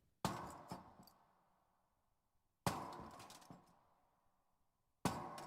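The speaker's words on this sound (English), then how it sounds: "we slammed the anchor into the metal plate" An anchor is slammed into a metal plate three times, each a sharp, loud metallic crash with a quick rattling aftershock and a ringing tail that fades over about two seconds, with silence between strikes.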